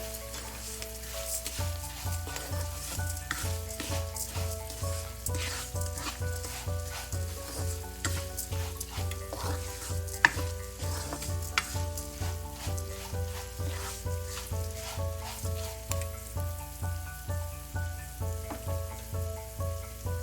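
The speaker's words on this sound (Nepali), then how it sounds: "अब यसलाई चलाइदिउँ।" Steady sizzling from a pan as noodles are stirred, with soft scraping over a backing of rhythmic music; no talking.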